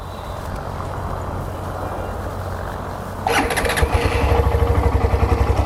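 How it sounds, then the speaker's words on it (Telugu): A Hero Xtreme 125R motorcycle engine starts up partway through, then idles nearby with a steady, moderately loud rhythmic thrum and a slight rise in level, no talking. "ఒకసారి ఇంజన్ సౌండ్ వినండి. ఇంజన్ సౌండ్ ఆన్ చేసి చూపిస్తాం మీకు."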